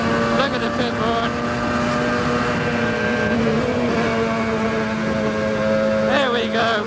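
A two-seater McLaren F1 car driven flat out around Silverstone, its engine screaming at high revs as it accelerates along the straights, loud and continuous, with speech faintly under the roar.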